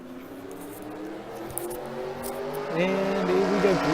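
Race cars at Watkins Glen accelerate on the green flag in a simulated NASCAR Cup Series race, with a steady engine roar that swells into a rising whine near the end while a commentator talks over it.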